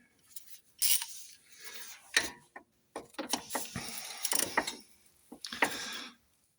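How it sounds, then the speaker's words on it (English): A socket ratchet tightens the nut on an anti-roll bar drop link of a Jaguar XK8, giving close, crisp clicking bursts separated by short pauses. "the top one, I'll just check that one again, swap the socket back over"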